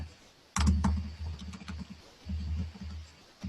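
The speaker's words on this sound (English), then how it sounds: "Sorry for my typing." A computer keyboard typed on during an online talk, with bursts of close, irregular key clicks and thumps that pause briefly and then resume; no one speaks.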